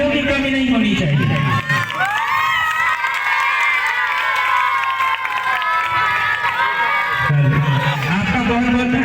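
Crowd at a Giridih city event loudly cheering and shouting throughout, a dense sustained roar of many voices with whoops, under an amplified voice at the start and end.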